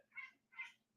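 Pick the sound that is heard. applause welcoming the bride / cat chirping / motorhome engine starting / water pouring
cat chirping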